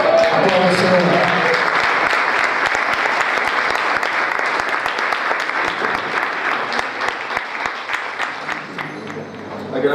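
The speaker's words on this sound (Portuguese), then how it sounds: "Aplausos, Senhor." Sustained applause from a church congregation at a Christian community service, dense and close, fading toward the end into more distinct individual claps.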